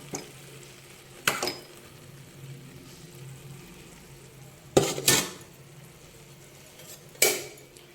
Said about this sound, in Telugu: ఇదిగోనండి, ఇందులోకి మనం రైస్ వేసేసుకుందాం.